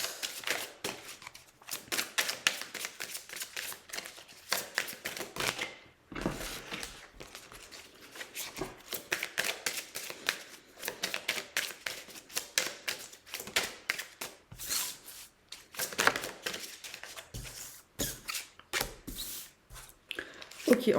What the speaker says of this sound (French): On va faire un tirage à 4 cartes.